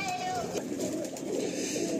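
Pigeons in a Kolkata loft of Andhra and Madrasi breeds, a newly paired couple, cooing in low continuous murmurs close by, with faint higher chirps mixed in.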